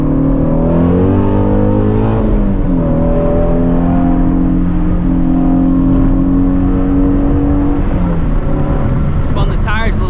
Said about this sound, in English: Spun the tires a little bit too right there